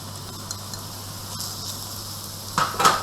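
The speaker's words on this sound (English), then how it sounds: "I've been heating up my pan, and I'm just going to go in with my onion" Chopped onion sizzles in a heated pan, a steady, fairly quiet frying hiss throughout, with a louder crackling burst near the end as the onion is moved, no talking.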